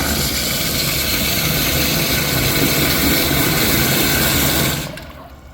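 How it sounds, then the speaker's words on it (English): Zurn wall-hung toilet flushing through a poorly made ball rinse, a loud, steady rush of water lasting several seconds that quickly tapers off at the end. "Let's have a look at this awful ball rinse."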